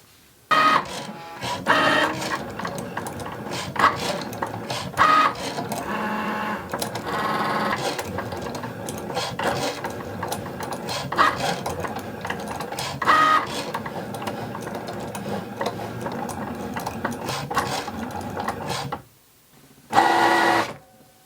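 A Cricut cutting machine slices a design from stencil vinyl on its mat, giving a busy mechanical whirring and buzzing with repeated carriage movements and short pauses. The sound stops, then a short final burst follows near the end.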